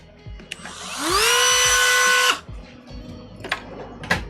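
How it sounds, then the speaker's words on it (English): A Dremel rotary tool whines up to full speed for about a second and a half of grinding on an RC truck kit part, then cuts off abruptly, with faint handling knocks before and after. "So the fact that oh, I need to Dremel something."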